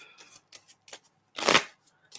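Tarot cards are shuffled in several quick riffling bursts, ending with one louder, fuller riffle, close and without talk.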